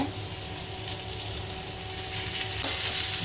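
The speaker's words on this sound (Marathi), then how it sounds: "आता चांगला लाल होईपर्यंत कांदा आपल्याला भाजून घ्यायचा." Sliced onions frying in oil with ginger and garlic, a dense continuous close sizzle over a low steady hum, with faint stirring shifts and one small knock near the end.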